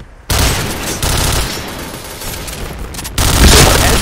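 Sustained automatic gunfire and blasts from a grenade in the Point Blank shooter game, loud and close, with dense rattling bursts that surge again near the end.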